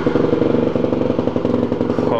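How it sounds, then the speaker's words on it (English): A supermoto motorcycle engine with stock exhaust idles close by while warming up, a steady, rumbling low throb and faint mechanical clatter, running continuously without talk. "this RX stock exhaust sounds really good"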